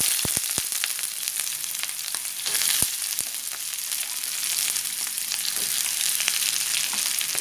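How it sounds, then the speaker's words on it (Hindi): Chopped onions hit hot oil in a pan over a fast flame, giving a steady bright sizzle with a few sharp crackles and stirring scrapes, close and alone. "हमने एक पैन में 3 से 4 चम्मच जितना तेल लिया है और ये गर्म हो गया है, तो अब हम सारे ओनियंस जो काट के रखे थे वो डाल देंगे"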